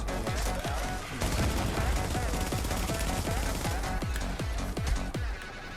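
Rapid gunfire rattles in a video game, a dense, loud fusillade of repeated shots over several seconds.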